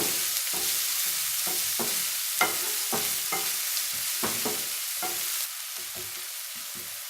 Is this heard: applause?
no